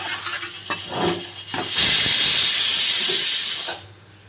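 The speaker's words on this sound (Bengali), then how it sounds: "ঝোলটা আমার ভালো করে ফুটে গেছে" Fish curry gravy boils in a pan for a pomfret mustard-poppy seed dish: after some light clatter and stirring, a loud, steady hiss-like bubbling fills about two seconds before cutting off abruptly, with no talking.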